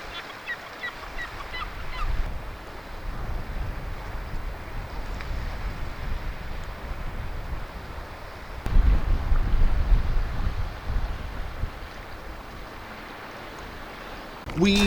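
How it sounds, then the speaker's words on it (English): Strong wind buffets a beach in Fife, Scotland, producing a steady roar of rumbling gusts with a louder surge midway, and faint water and bird sounds are heard beneath it. "It's a windy day as well."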